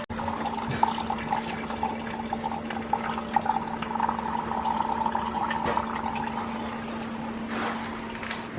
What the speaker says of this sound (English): Just gonna take that off first thing and drain the coolant.